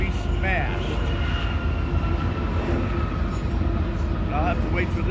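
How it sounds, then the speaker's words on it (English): A train rolls past on nearby railway tracks in a steady, loud, continuous rumble with faint squeals of wheels on rail running throughout. "here comes a train on one of the other tracks now"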